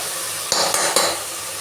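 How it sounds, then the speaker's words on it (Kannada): Mixed vegetables fry in hot oil in a pan for pulao, a steady sizzle broken by three quick scraping stirs of a spoon against the pan, close and without talk. "ಸರಿಯಾಗಿ ಫ್ರೈ ಆಗಲಿ"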